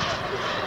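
A scale-model BAe Hawk jet trainer takes off at a model aircraft fair. Its engine gives a steady, loud roar while a commentator talks over it.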